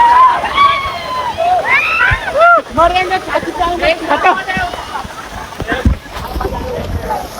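Water sloshes and splashes continuously at a water park in Lonavala while several people shout and talk excitedly over it, with a bright, lively outdoor feel.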